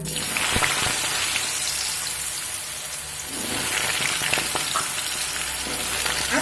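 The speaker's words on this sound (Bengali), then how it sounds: "তেলটা কিন্তু গরম হয়ে গেছে এবার এখানে দিয়ে দেব কেটে রাখা আলু" Cut potatoes drop into hot refined oil and fry with a loud, steady crackling sizzle, briefly quieting before the spattering builds again, with a few sharp pops and no talking.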